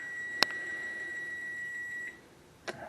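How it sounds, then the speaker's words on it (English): An oven timer gives a sustained electronic tone lasting about two seconds, bracketed by sharp clicks, heard close and fairly loud in a home kitchen while a chicken broccoli and rice bake cooks. "Alright, y'all. There's the timer."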